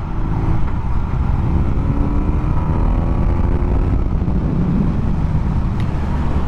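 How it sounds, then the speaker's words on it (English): A 2022 BMW R nineT motorcycle's engine and exhaust drone steadily and loudly as it shifts through the gears on the road, with a continuous rumble and no talking. "You hear a little bit of the engine kind of going when you rev this thing up, and a little bit of exhaust noise"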